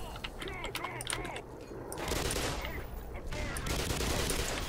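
Gunfire around a corner in the video game Black Mesa: clusters of sharp shots with mechanical clatter, then a denser, louder barrage in the second half, with a voice talking over it.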